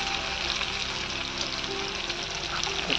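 Onions sizzle steadily in hot oil in a pan while a chicken dish is cooked, a constant close frying hiss with faint stirring, no voices.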